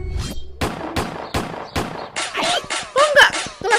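Video game gunfire rings out as five sharp single shots spaced evenly about half a second apart, followed by a denser rapid burst of overlapping shots, loud and close with no voices.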